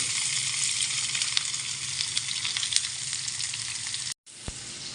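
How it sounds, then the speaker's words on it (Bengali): Cooking oil poured into a hot pan for frying turmeric-coated fish gives a loud, steady, crackling sizzle that runs continuously, then cuts out abruptly near the end before resuming briefly with a soft clink. "এখন আমি রান্নার তেল দিয়ে দেবো।"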